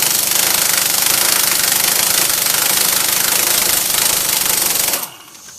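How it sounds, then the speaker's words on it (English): Tool driving a 32mm socket to remove the axle shaft nut on a 2002 Ford Focus during a wheel bearing job: a loud, harsh, continuous rattling whir for about five seconds that cuts off abruptly. "Next thing we want to do is take our nut off for our axle shaft here."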